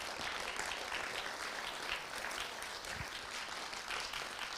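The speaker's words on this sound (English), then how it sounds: "please give them a warm round of applause" An audience applauds panelists at the close of an afternoon panel discussion, a steady, dense wash of many hands clapping that holds at an even level throughout with no talk.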